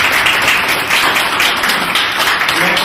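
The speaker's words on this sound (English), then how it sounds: "So let's give him a applause." An audience applauds at an award ceremony in Greensboro, North Carolina, with continuous dense clapping filling the whole moment at an even, fairly loud level.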